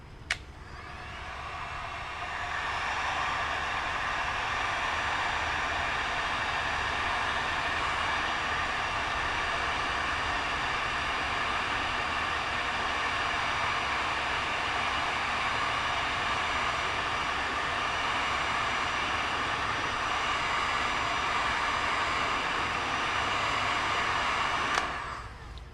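A heat gun heating a part while a Traxxas nitro RC vehicle is being taken apart gives a steady, close blowing roar like a hair dryer, running continuously for over twenty seconds with a click at start and end.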